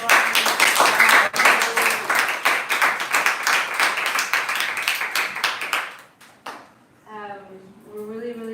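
A crowd applauds a speaker at a Bhagavata Sravana gathering, dense clapping filling the first six seconds before it thins out and a voice begins speaking.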